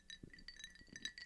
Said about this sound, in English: clinking.